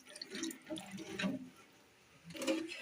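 Water is poured from a small vessel into a cooking pot during festival cooking, coming in several short splashing, trickling bursts separated by brief pauses, close up and fairly quiet.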